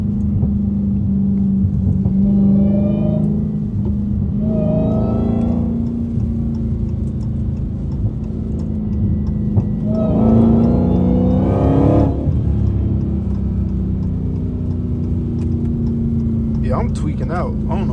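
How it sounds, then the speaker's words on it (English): A Dodge Hellcat limo's engine roars and revs in repeated surges as the car slides through turns on a rain-soaked road, loud and close from inside the cabin, with brief sharp noises near the end. "Slide the Hellcat limo."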